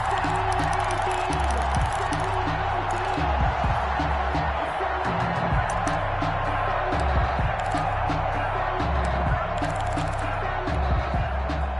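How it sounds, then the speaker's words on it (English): Stadium crowd noise in a PS4 football game broadcast, a steady dense roar of cheering and applause that stays loud throughout, with game music or commentary mixed in underneath. "How about some applause for the defense there?"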